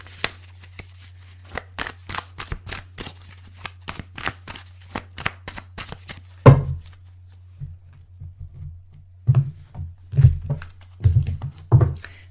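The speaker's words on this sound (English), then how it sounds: "3 more shuffles." Tarot cards shuffled by hand: a quick run of crisp, closely spaced riffling clicks, then a few scattered louder thumps and shuffles as the deck is handled, close and alone with no talk.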